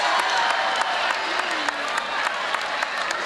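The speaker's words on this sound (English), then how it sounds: "No, y'all clapping, right?" An audience claps in a thick, continuous burst of applause with scattered cheering, loud and close, with no talking over it.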